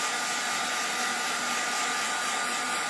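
A heat tool on its lowest setting blows a steady, even whoosh of air to dry thin paint on mixed-media playing cards, close and continuous with no talking.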